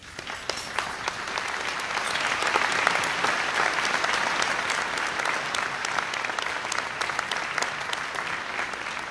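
An audience at a college scholarship ceremony gives the standing faculty sustained applause, a dense, even patter of many hands that swells slightly and continues for about nine seconds.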